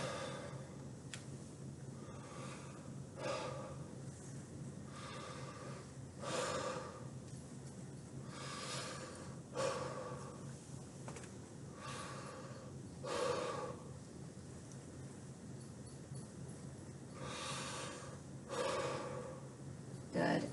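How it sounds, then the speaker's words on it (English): A patient takes deep breaths in and out during a head-to-toe lung exam: roughly eight slow, airy inhale-exhale cycles at an even rhythm, close and fairly soft, with no talking. "Big deep breath in and out."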